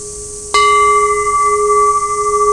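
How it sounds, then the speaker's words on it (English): A bell at a Shinto shrine is struck once, giving a sharp metallic attack that settles into a loud, pure, steady ringing tone sustained with little decay. "that's an awesome bell"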